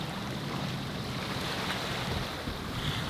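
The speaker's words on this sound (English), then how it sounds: "This is beautiful sailing." A sailboat under way on the open sea, with a steady, close rush of wind and waves washing against the hull throughout and no voices.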